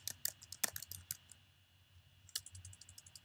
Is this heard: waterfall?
no